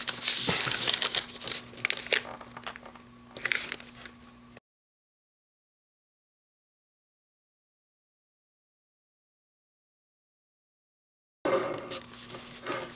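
Paper being folded and creased for an origami cube crinkles and rustles up close in short bursts. A long stretch of silence separates them.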